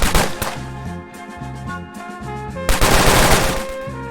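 Assault-weapon gunfire sound effect: loud, rapid automatic bursts ringing out continuously, dense and close, with no voices.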